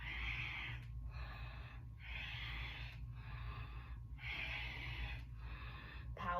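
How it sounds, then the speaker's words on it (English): Forceful rhythmic breathing during a kundalini exercise: about six strong, even breaths in a steady cycle, heard close and alone. "Powerful breathing."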